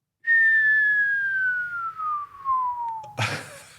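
A voice imitates a falling whistle bomb, a long clear whistle sliding steadily downward in pitch for about three seconds before breaking off into a short noisy burst.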